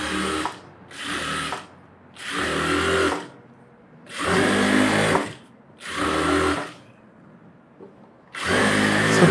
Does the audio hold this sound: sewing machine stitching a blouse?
yes